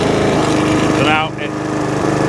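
A Honda HRX476 lawn mower engine, recently given a carburetor clean to cure hunting and surging, holds steady at full revs close by with a continuous buzzing drone, and a voice speaks briefly over it.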